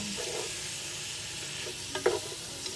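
Pork sautéing in a pan for dinuguan, a soft, continuous sizzle with a brief clatter of stirring near the end.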